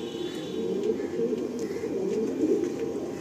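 Pigeons at a bird sale coo softly and continuously nearby, with low rolling calls overlapping at moderate volume.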